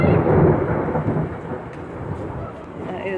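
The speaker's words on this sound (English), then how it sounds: "I'm so excited to have rain." A desert rainstorm, the first of the year, with loud rolling thunder rumbling over steady rain, strongest at the start and easing slightly as it goes on.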